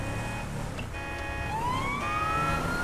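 A police car siren wails in the video game GTA V, tonal wailing and rising sweeps over a low engine and traffic rumble, moderately loud and steady throughout.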